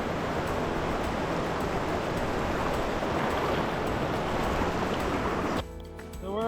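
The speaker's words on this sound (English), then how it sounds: "So we're just walking in the river." Water rushes and splashes in a continuous broadband wash as someone wades through a river in water shoes at Algonquin Park's Kiosk Lake, loud and near, easing slightly near the end.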